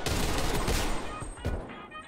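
Bursts of automatic gunfire in the shooter Call of Duty Cold War, dense overlapping shots and loud cracks from close range with a couple of sharper reports near the end.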